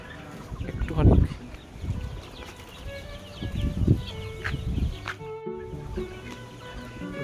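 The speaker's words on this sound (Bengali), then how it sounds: "এই যে এখানে প্রচুর মুরগি আছে" Chickens cluck and squawk in a poultry farm shed, several birds calling in irregular bursts at close range, with some wing flapping and occasional human voices nearby.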